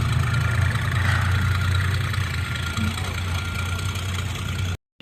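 A Minneapolis tractor engine runs steadily at a low idle-like rumble, loud and continuous, at an outdoor steam threshers reunion, with faint voices in the background.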